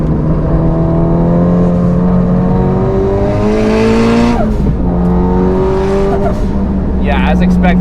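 A Mitsubishi Lancer EVO 8 race car accelerates hard around the Nürburgring, its engine close and loud, climbing through the revs with gear shifts between pulls, heard from inside the car.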